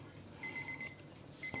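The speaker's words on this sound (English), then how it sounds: "So I'm just going to turn off the alarm." A Seiko alarm clock sounds its alarm in a quick run of short, paired electronic beeps, then pauses and starts a second burst near the end, close and fairly quiet in a still room.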